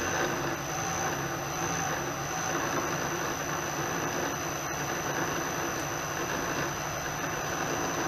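A milling machine runs with a steady, dense whir and a thin high whine throughout, close and unbroken, with no voices over it.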